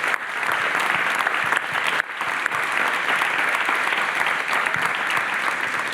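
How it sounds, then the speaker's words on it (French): A conference audience applauds in a sustained, even burst of clapping from many hands, close and continuous for several seconds. "Je pense qu'on peut vous applaudir."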